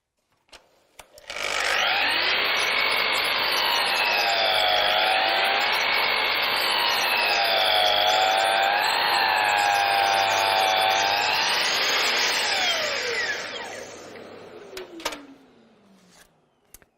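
A Festool Kapex KS 120 radial miter saw spins up and makes a very fine cut through wood for about twelve seconds, its whine wavering slightly, then winds down with a few faint clicks.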